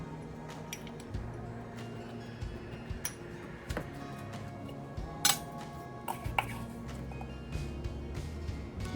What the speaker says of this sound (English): brown sugar, 2 tablespoons of cinnamon, and 1 cup of normal sugar, the white sugar. I mix them together